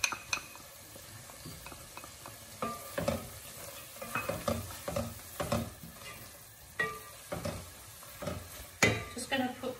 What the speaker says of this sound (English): And mix all the powders together.